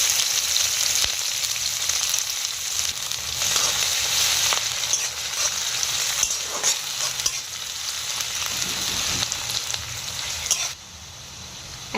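Sliced onions frying in hot oil with bay leaves, cinnamon, cardamom, cloves and mace for a rui fish kalia, a steady close sizzle that continues evenly before dropping off abruptly near the end.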